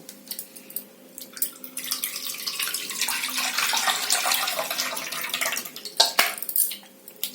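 Water is poured over tamarind in a bowl while it is squeezed by hand for pepper rasam, giving close, irregular splashing and sloshing with a few sharper drips and no talk.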